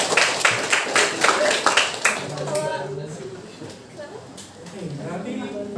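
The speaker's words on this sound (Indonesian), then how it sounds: "Tepuk tangan buat dia." Classroom applause after a student group's presentation, a burst of scattered clapping in the first two seconds that fades as a voice begins speaking over the room.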